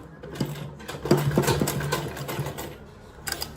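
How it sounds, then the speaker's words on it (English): A sewing machine whirs in short bursts, stopping and restarting as it back stitches back and forth on a shoulder bag, close and moderately quiet. "I'm going to back stitch so that it will be well secured"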